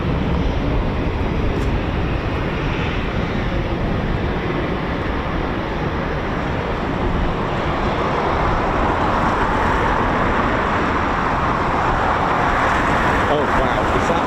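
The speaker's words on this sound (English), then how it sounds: "there's still more Typhoons spooling" Eurofighter Typhoon FGR4 jet engines spool up at the RAF Coningsby QRA station, a steady, dense, broad roar that holds for the whole stretch and swells slightly toward the end.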